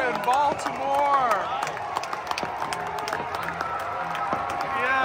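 A baseball crowd in Baltimore cheers after a three-run home run. There is a sustained roar with clapping and whistles throughout, while excited voices talk over the crowd noise.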